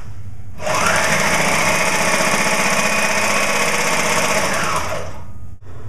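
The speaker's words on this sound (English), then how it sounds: "Now I'll do the same thing with my Thompson Mini Walker." A Thompson Mini Walker sewing machine stitching at a steady whirring, rattling pace, loud and close, running continuously for several seconds before stopping.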